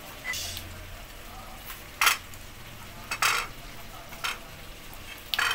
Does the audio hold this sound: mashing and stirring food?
yes